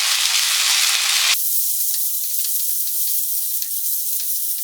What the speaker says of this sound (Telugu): ఈ అల్లం వెల్లుల్లి పేస్ట్ 1 నిమిషం మంచిగా వేగిపోయిందండి